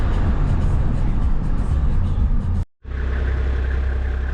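A Gendarmerie car drives off with a loud, continuous engine rumble and road noise, broken by a brief sharp dropout before the steady engine drone resumes close by.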